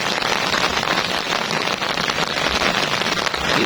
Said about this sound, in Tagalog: Sana wag magtuloy yung Ulan.